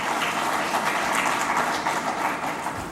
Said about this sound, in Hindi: एक जोरदार तालियों से उनका अभिनंदन किया जाए